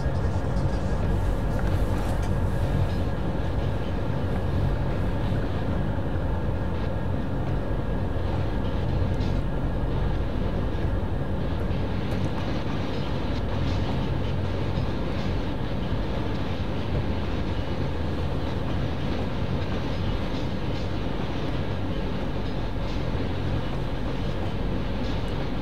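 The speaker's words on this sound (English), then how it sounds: "We need to slow the train down a bit" A train running in the Trainz railway simulator game, a loud continuous rumble with steady low drone and engine hum throughout, no breaks in the sound.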